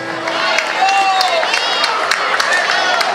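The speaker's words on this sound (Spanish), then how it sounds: "el aplauso fuerte para él" A concert audience at an outdoor Pachamama festival in Amaicha del Valle applauds and cheers for a band member, steady crowd clapping with whoops and whistles mixed in.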